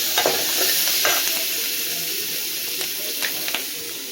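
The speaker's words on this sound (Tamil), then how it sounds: "அதனால தான் நம்ம பூண்டை சேர்த்துட்டு நல்லா வதங்க விடலாம்." Garlic sautéing in a pan for a capsicum chutney, a bright close sizzle with steamy hiss and a few light stirring clicks, steady throughout, no one talking.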